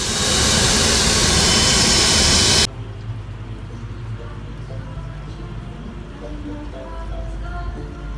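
A jet airplane engine roars loud and broadband for a couple of seconds, then cuts off abruptly, leaving a much quieter low rumble of the cabin or distant engine.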